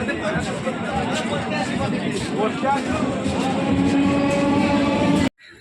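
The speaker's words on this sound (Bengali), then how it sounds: "ওই যে ট্রেনও চলে গেল, ট্রেন চলে যাচ্ছে।" A train pulls out of a station, a continuous rumbling and rattling of moving carriages under nearby chatter and people talking, ending with a sudden cutoff.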